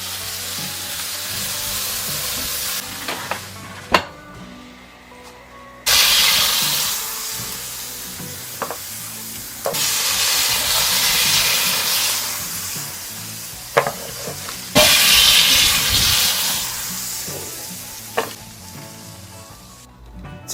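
Marinated flanken-cut beef spare ribs sizzling on an Akorn kamado charcoal grill: loud, close, hissing bursts that swell as pieces are turned, with short clanks of tongs and brief quieter gaps between the sizzles.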